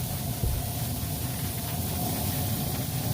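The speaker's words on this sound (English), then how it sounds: "we'll give it a spray with I can't believe it's not butter." I Can't Believe It's Not Butter spray misted over corned beef cabbage balls at a barbecue pit, a steady breathy hiss mixed with outdoor background noise.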